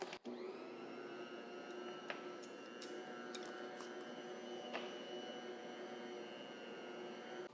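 A stand mixer kneads bread dough for a long bake, giving a steady, loud motor whir with a constant tone that runs unbroken, with a few faint clicks on top and no talk.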